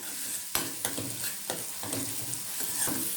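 Stuffed bitter gourd with a spicy green chilli frying in a pan, a steady close sizzle broken by several sharp clinks and stirring scrapes, with no voices.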